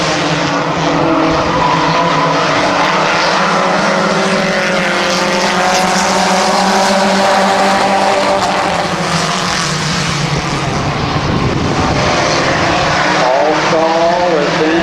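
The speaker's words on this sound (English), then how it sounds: "Here goes Ranger in the third lane. Canovac second and Stahl side by side" Race cars compete at Midvale Speedway, a continuous loud engine roar with pitch rising and falling as cars pass close by, several engines layered together.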